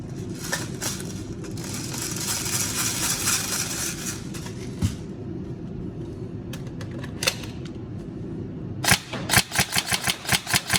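A Tokyo Marui M4 URGI next-generation electric airsoft rifle cycling over a constant mechanical hum, a long buzzing burst, then sparse single clicks and finally a quick rhythmic string of sharp shots, all close.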